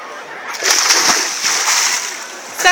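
A body splashes into the Sea of Azov from a somersault jump off a catamaran, a bright broad splash with lingering slosh and water noise; a voice is heard briefly at the end.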